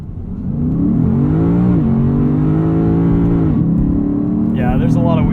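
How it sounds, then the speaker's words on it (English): A 2021 Lexus RC F Fuji launches on wet pavement with wheel spin, its engine roaring loud and close in a sustained, rising drone with pitch wobbling as the tires spin, and a voice talking briefly near the end. "You gotta love a launch button that just roasts the tires."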